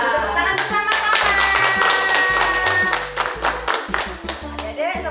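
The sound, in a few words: clapping hands together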